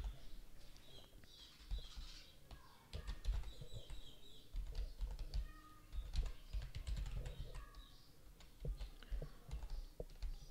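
Fingers tap away at a computer keyboard in irregular bursts of close, crisp key clicks, fairly quiet, with short pauses between runs of keystrokes.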